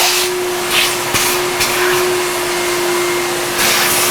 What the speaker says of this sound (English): we gotta vacuum up and clean up a little bit here